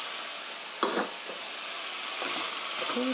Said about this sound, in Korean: 볶아주세요